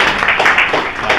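Students in a government school classroom in Jharkhand clap together, a steady dense patter of hand claps lasting about a second, close and fairly loud.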